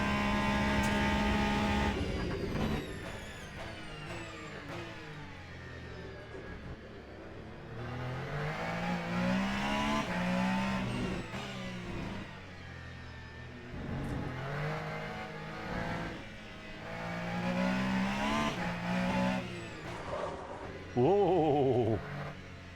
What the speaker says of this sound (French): J'adore son bruit moteur également.